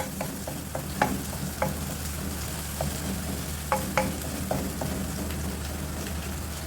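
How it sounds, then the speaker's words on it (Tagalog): Garlic sautéing in a pan until golden brown for a stir-fry of vegetables with oyster sauce and chicken, giving a steady close sizzle with scattered sharp clicks of a utensil stirring and scraping the pan. "Igisa natin yan hanggang sa maging golden brown yung ating bawang"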